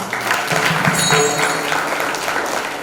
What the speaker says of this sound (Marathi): त्यांच्यासाठी एकदा टाळ्या वाजवा